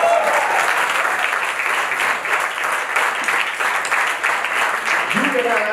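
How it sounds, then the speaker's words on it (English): Dense, sustained applause fills a book launch audience, a steady wash of many hands clapping at once, loud and continuous, with a brief voice surfacing near the end. "a thundering round of applause for the verdict"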